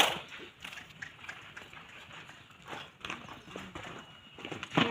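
Hooves of a horse trained to walk on two legs clip-clop in an irregular series of close, sharp strikes, with a few louder thumps near the end and no talking.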